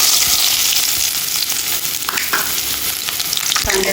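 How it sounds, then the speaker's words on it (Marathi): An onion drops into a spoonful of well-heated oil in a pan on a gas stove, producing a loud, close, unbroken sizzle with scattered crackles and a few stirring taps. "तेल छान तरतरलं आहे तर आपण त्याच्यावर एक कांदा टाकायचा"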